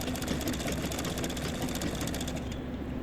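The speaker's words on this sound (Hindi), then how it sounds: "अब हम मशीन पे आ गए हैं। सबसे पहले हम गोलाई वाला हिस्से को सिल लेते हैं" Sewing machine stitching the curved section of palazzo pants, a continuous fast mechanical whir with steady needle ticking, close and moderately loud, running without pause.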